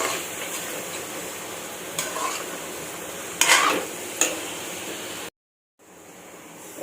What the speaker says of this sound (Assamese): এতিয়া এইখিনি মই ভাজি আছোঁ।